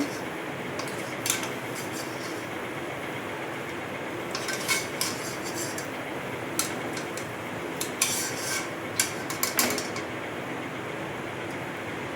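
Palm fruit fritters (taler bora) being lifted from hot frying oil with a metal utensil, heard as sharp scattered clinks and scrapes of metal against the pan over a low steady background hiss.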